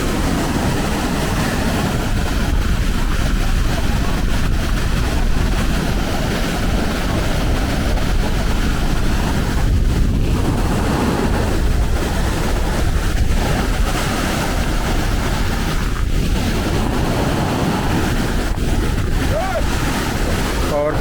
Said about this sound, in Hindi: ये खूबसूरत सा दरिया, ये तेज़ रफ्तार,